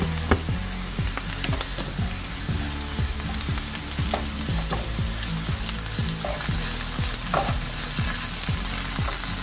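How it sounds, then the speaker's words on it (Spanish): Potato peels fry in a pan of hot oil, giving a loud, continuous sizzle with repeated scraping and stirring strokes at a regular pace, close to the microphone and with no talking. "En este punto vamos a agregar nuestras cáscaras"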